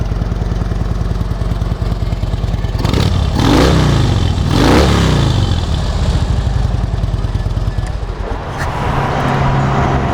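A used Harley Davidson Ultra Classic FLHTCU motorcycle idles loudly up close with a lumpy exhaust rumble, then revs twice in quick succession before settling back to a throbbing idle.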